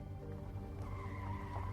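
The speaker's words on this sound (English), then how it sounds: "Richards heard cars screech to a stop in the parking lot" Several cars skid to a stop in a parking lot, tires screeching in a sustained, fairly loud squeal layered over a low engine rumble, no voices.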